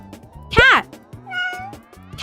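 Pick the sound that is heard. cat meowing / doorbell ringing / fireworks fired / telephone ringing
cat meowing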